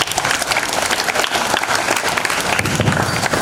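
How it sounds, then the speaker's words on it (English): Audience applause in a school hall as a pupil leader is welcomed on stage at an investiture ceremony, loud, dense, steady clapping from a large crowd of students and staff. "With a round of applause, let's welcome him on stage."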